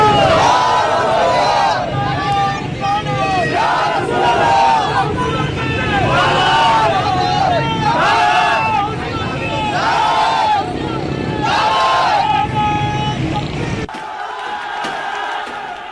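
A large crowd in Sindh, Pakistan chants slogans in loud, rhythmic bursts of many voices, repeating over and over amid steady crowd noise before dropping off near the end.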